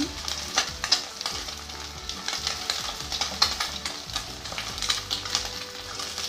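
Tofu and egg fry in oil in a pan with a steady crackling sizzle and scattered sharp pops, close and moderately quiet, with no voices.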